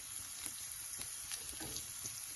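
Cubes of Spam sizzle steadily in a hot pan for fried rice, a dense, continuous crackle with small pops throughout and no voices.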